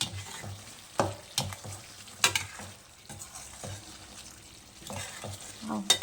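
Snail gravy seasoned with ground pepper stirred in a pan: repeated scraping strokes of a spoon against the pan over a low bubbling sizzle, close and uneven in rhythm.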